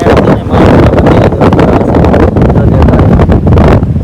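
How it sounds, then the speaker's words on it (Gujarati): Loud, gusty wind buffets the microphone in a continuous roar with rough rumbling bursts, no other sounds standing out. "પાછા પવન ભાઈ બહુ છે"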